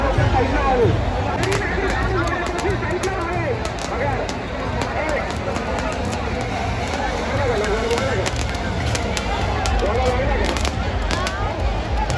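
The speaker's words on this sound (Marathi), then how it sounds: "फटाक्यांची आतषबाजी इथे होताना दिसते." Firecrackers at the Khandoba temple fair in Ozar, Nashik, crackling in rapid, continuous bursts over a loud, dense crowd babble during the pulling of twelve carts.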